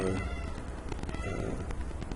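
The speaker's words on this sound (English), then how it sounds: "that's the cat of the office." A cat in an office meows a few times, fairly close, over a background murmur of a voice and room noise.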